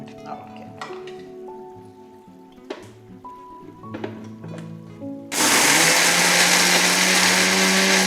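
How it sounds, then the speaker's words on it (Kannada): Mixer grinder running loud and steady as it grinds fenugreek chutney ingredients, starting abruptly after quieter kitchen clatter and holding a continuous whirring roar to the end. "ಇನ್ನು ಮಿಕ್ಸಿಗೆ ಹಾಕ್ಕೊಡೋದಾ ಹಾಕ್ಕೊಳ್ಳೋದು"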